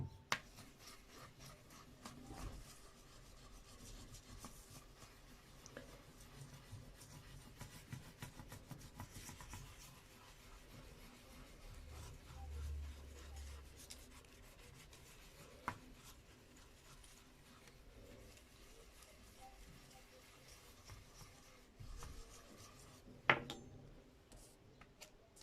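A spoon rubbed in circles over paper laid on an inked lino block for a botanical print, giving a soft, continuous scratchy rasp that is quiet and close, with a few brief louder scrapes.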